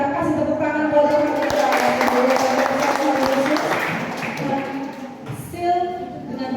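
A Baptist church congregation in Depok, Indonesia, gathered for a children's holiday Bible school revival service, claps hands in a dense, fairly loud burst that thins out toward the end, with a voice faintly audible near the close.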